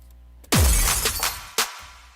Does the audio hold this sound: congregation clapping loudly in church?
no